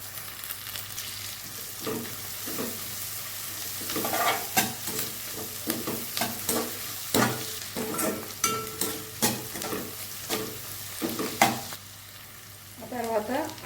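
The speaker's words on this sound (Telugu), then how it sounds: "ఆనియన్స్ మంచి బ్రౌన్ కలర్ వచ్చేసి ఫ్రై చేస్తాను" Onions with curry leaves and green chilies fry in a pan for an ivory gourd and egg curry, giving a steady close sizzle broken by repeated scraping stirs that turn brisk and clattery toward the end.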